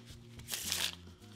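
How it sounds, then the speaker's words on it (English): Riffle shuffle of a deck of playing cards, a single quick, crisp burst of flicking card edges lasting under half a second, close and fairly quiet. "give the deck another riffle shuffle"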